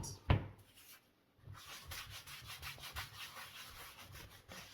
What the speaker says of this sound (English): Just buff it out.